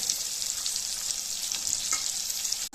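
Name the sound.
frying radish, potato and onion in a pan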